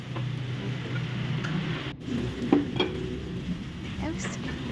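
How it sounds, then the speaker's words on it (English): Kabsa ingredients, including chicken, raisins and spices, sizzle in butter in a pan with a steady frying hiss and a few stirring clinks. "So we are going to saute with butter all the ingredients."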